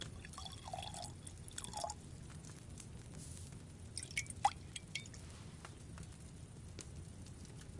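Liquid poured while brewing a potion in the video game Kingdom Come Deliverance 2: soft dripping and trickling, fairly quiet, with a few brief splashy clicks toward the end and no talking.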